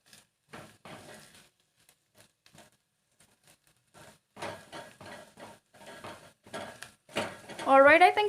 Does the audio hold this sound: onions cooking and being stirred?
yes